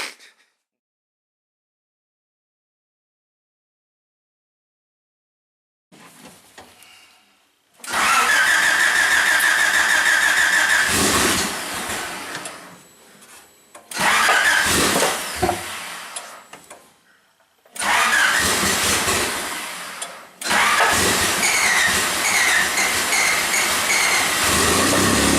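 A car engine in a home garage cranks and catches after a long silence, then runs loudly in several bursts of revving with brief dips between them, close and without talk.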